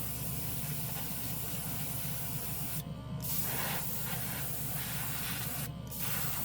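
A paint sprayer powered by a portable shoulder-strap air compressor hisses continuously with a broad, steady spray, briefly pausing twice, with a low motor hum beneath.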